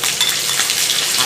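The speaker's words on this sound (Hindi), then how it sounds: "आलू को पहले भूनना है," Potatoes frying in hot mustard oil in a wok, already tempered with dry red chilli, cinnamon, cloves and cumin, give a steady, close, bright sizzle that hisses evenly throughout with no talking.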